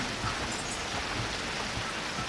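Steady rain falls on an outdoor back deck under the eaves in winter, a continuous soft hiss of dense drops with occasional closer pattering, fairly quiet and even throughout.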